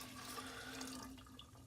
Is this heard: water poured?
yes